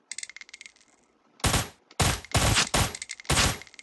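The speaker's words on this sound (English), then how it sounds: "Shoot the gas tank, and he'll blow up" Gunfire in an online shooter game aimed at an armed pickup truck, heard as several loud bursts separated by brief pauses, close and dominant over faint background game sounds.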